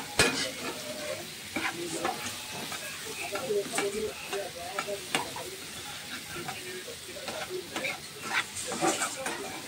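Pumpkin pieces fry in a pan with mustard, ginger, green chilli, chilli powder and panch phoron for a vegetarian chorchori, a steady sizzle broken by repeated stirring scrapes and clinks, close and moderately loud.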